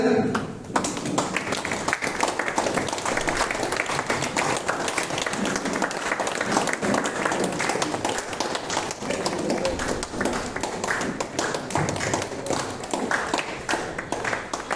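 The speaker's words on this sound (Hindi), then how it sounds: "हम लोग ताली बजाते रहे" An audience claps loudly and steadily for an honoured guest at a Hindi-speaking event, with dense, sustained applause that runs the whole time and a few voices faintly mixed in.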